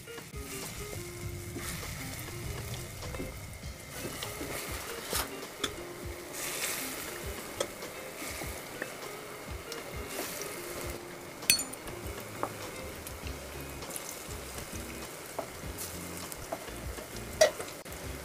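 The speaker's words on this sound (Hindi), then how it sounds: "अब हम इसमें इसकी फुलकी डालेंगे।" Masoor dal fulki frying in hot oil in a kadai, giving a steady, fairly quiet sizzle throughout with occasional faint clinks and stirring noises and no talk.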